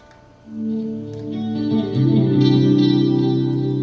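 An electric guitar plays ringing chords drenched in a shimmering chorus effect, building in volume and sustaining with a lush, wavering tone.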